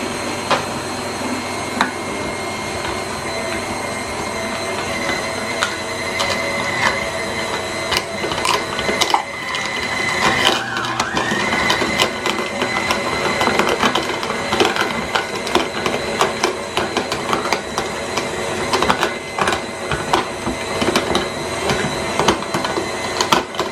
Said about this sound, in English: Here's all the meat that just went through the grinder.